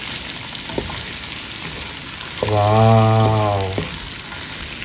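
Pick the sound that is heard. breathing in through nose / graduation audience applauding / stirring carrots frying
stirring carrots frying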